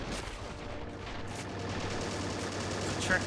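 Gunfire in the video game Men of War: Assault Squad 2, a dense continuous battle din of overlapping rifle and machine-gun fire at mid distance, steady throughout with no clear individual shots standing out.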